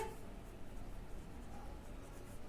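A pen writes an accounts entry on paper, making a faint, continuous scratching at close range in a quiet room with no talking.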